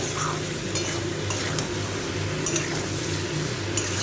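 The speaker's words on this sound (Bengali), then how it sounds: "আর একটু দিলাম এটা ভালো করে মিশিয়ে দেব" A spoon stirring a thin fish curry with ridge gourd, bottle gourd, potato and turmeric in a pan, giving a close, steady scraping and gentle sizzling with soft clinks and no talking.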